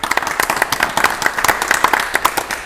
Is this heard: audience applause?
yes